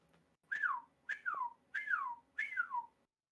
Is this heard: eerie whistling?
yes